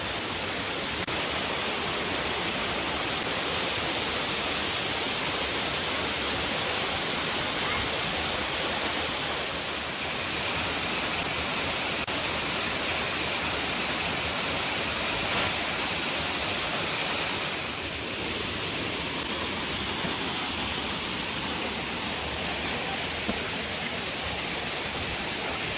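Ramona Falls on Mount Hood roars steadily on a high-water day, a dense unbroken rush of falling water that fills the whole stretch with no voices.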